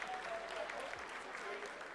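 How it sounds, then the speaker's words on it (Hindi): Applause from staff in India's mission control during the Chandrayaan-3 lunar landing's vertical descent phase, a steady, faint, dense wash of clapping that fills the whole stretch, with faint voices underneath. "Lot of applause indicates that till now the performance has been nominal."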